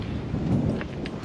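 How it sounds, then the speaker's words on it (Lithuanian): Gusty wind blowing outdoors, a steady broad roar that swells slightly in the middle and stays loud and close throughout, with no talking. "Eina savo koks vėjas"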